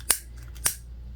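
Scissors trimming fabric pieces for a mini backpack, two crisp separate snips about half a second apart, close and clear with no talking.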